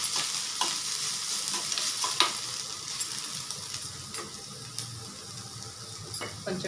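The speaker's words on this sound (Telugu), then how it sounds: "అల్లమెల్లి పేస్ట్ స్మెల్ పోయేదాకా కొంచెం వేగనివ్వాలి" Ginger-garlic paste fries in a hot pan with a steady bright sizzle, punctuated by irregular scraping stirs and light clinks of a spoon against the pan, up close with no talking.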